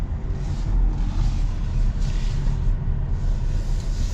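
A 2026 Kia Seltos AWD with a naturally aspirated four-cylinder engine under way, heard from inside as a steady, fairly loud low road-and-engine rumble that holds even throughout, with no voices.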